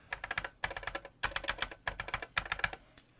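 Mechanical keyboard switches with hefty keycaps, ones that don't bottom out like Cherry MX Blacks, clatter in four quick bursts of close, crisp keystrokes with short pauses between them and no talking.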